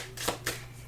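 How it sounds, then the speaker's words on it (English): Tarot cards being shuffled by hand give two quick riffling bursts, close and crisp, each a short papery flutter lasting a fraction of a second over a quiet room hum. "let's just jump right in and start shuffling the cards"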